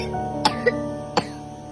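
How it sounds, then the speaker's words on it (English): A person coughs three times in short, sharp bursts close to the microphone, with brief pauses between them and no talk. "Good coughing."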